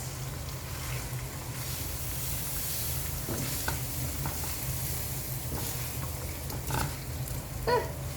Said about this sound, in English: large tomato, put into veggies, put it in and fry